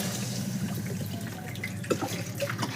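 Water poured into a cooking pan of lightly browned curry masala for a thin kalo jeere jhol, a steady splashing pour running the whole time with a brief sizzle near the end.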